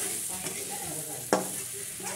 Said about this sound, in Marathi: असं मस्तपैकी आता हे परतणं झालेलं आहे